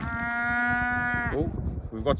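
A cow moos once in a long, steady, loud call on a smallholding, close by, followed by brief rustling and faint background sounds.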